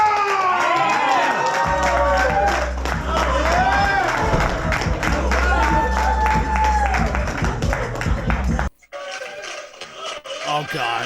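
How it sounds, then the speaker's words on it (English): Crowd cheering and clapping as a podcast guest makes his entrance, a dense, loud burst of whoops and applause with voices mixed in that runs for several seconds before cutting off abruptly, leaving quieter scattered sounds. "Please give a loud round of applause for Chris Morgan, Angry Bagel"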